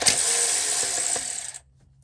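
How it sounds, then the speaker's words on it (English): A wrench works loose an oil pan bolt at the bell housing of a T1N Sprinter engine, giving a close, steady metallic ratcheting rasp for about a second and a half before it stops dead. "Backed the bolt out and got the wrench stuck."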